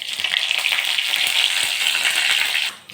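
Five-spice seeds and whole dried red chillies fry in hot oil in a kadai, giving a loud, close, continuous hissing sizzle that runs unbroken and then drops off abruptly just before the end.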